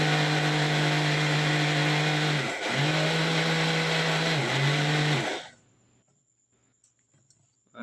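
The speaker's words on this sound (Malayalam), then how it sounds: "മയോണൈസ് അടിച്ച് വെച്ചിട്ടുണ്ട്." Electric blender whirring loudly while mixing homemade mayonnaise for shawarma, a steady close motor drone with brief dips in pitch, then cutting off abruptly into near silence.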